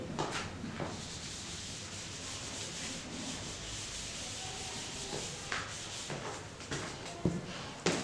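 Entries being rubbed off a classroom board, a continuous close scrubbing and wiping that runs steadily throughout, with a few light knocks toward the end.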